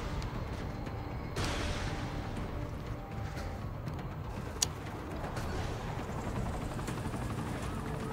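Helicopter in the video game Saints Row: The Third, a steady broadband rotor and engine roar that runs unbroken through the whole stretch, with a brief sharp click partway in.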